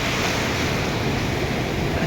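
Ocean surf washes onto a beach in Busan, Korea, a broad continuous rush of breaking waves with some wind buffeting the microphone and no voices.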